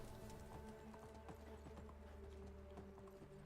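A horse in the game Medieval Dynasty walks with steady, evenly spaced clip-clop hoofbeats over a continuous game soundscape, at a moderate and consistent level.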